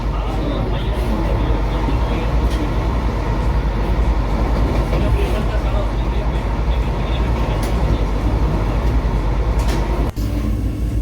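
The Puri-Howrah Vande Bharat Express runs on its route toward a junction with a continuous loud interior rumble and faint wheel clatter throughout, ending with a brief jolt.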